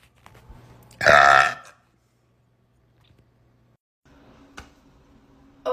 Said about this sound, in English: Oh, I gotta burp.